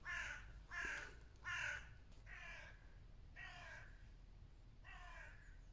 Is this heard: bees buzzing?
no